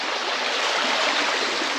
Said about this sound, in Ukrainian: З гір стікає вода.